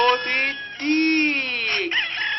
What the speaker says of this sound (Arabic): صوت الديك